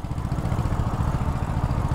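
A MUTT GT SR 250 motorcycle engine rumbles steadily while riding, a close, loud, continuous low drone with a slight pulsing texture and no speech.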